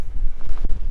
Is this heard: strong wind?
yes